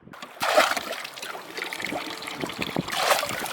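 Cold river water pours and trickles out of a scoop on the Bow River in early spring, in two close splashing bursts with a dribbling stream between them.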